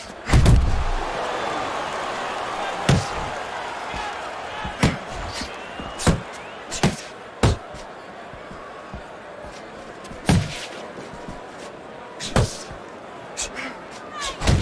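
Punches landing in the boxing video game Fight Night Champion, Apollo Creed against Ivan Drago: sharp, heavy thuds striking at irregular intervals, about a dozen across the stretch, over a continuous crowd roar with a commentator talking.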